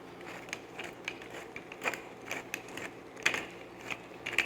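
A pepper mill grinds pepper while rice is being cooked, with a soft, rhythmic ratcheting crunch of repeated twists, close and fairly quiet.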